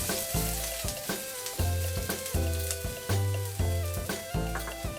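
Minced garlic and long beans sautéing in a hot pan, an even close sizzle broken by rhythmic stirring scrapes and tosses roughly every second, with no talking.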